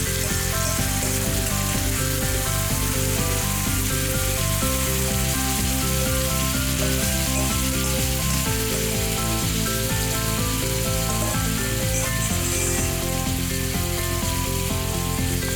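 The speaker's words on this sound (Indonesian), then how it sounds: "Bahan selanjutnya yang akan ditambahkan ke dalam wajan penggorengan bersama bawang putih dan bawang bombay" Marinated chicken sizzles and fries steadily in a hot pan with garlic and onion, a constant crackling hiss with faint stirring, no voices.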